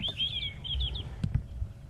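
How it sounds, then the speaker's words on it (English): A scrub robin gives a few quick, high chirps overhead at the start, fairly faint, against a low rumbling background with a couple of soft thuds. "Right above us, there's a scrub robin chirping."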